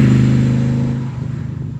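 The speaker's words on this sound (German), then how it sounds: "Ich glaube, das ist der kräftigste Sound beim Auto, den ich bisher hatte." A 1964 AC Cobra 427 SC MK III with a 7-litre V8 revs hard and close, a deep loud roar that slowly eases off into a throbbing, pulsing idle rumble.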